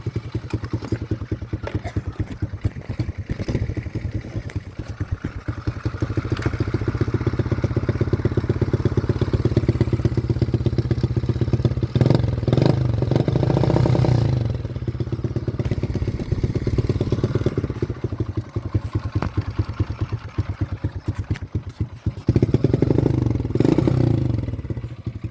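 Small 1991 Honda Z50 motorcycle engine running on choke, a steady close putter with slight rises in revs and some mechanical clatter, no talking.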